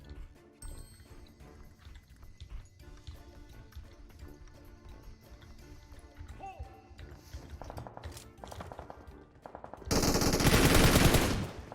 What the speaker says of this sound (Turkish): Karşıdan buraya sıkıyorlar.